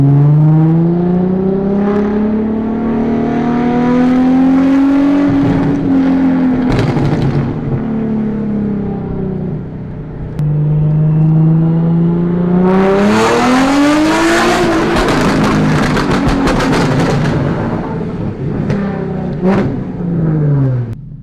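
A Subaru STI engine revs hard in repeated rising and falling sweeps, loud and close, with a sharp crackling burst in the middle and a final climbing rev.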